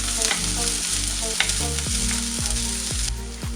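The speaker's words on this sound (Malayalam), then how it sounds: "പിന്നെ ഒരു 4 പച്ചമുളക്, കുറച്ച് കറിവേപ്പില, ഇത്രയും ചേർത്ത് നന്നായിട്ടൊന്ന് വഴറ്റി കൊടുക്കണം" Onion, green chillies and curry leaves are sautéed in a pan, making a loud, close, continuous sizzle broken by the scraping of stirring, with a steady hum beneath.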